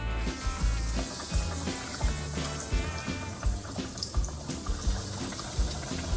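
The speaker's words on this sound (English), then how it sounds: "I'm gonna start frying them" Continuous crackling and bubbling of breaded chicken strips frying in hot oil, dense and steady, with a busy sizzling hiss and no voices.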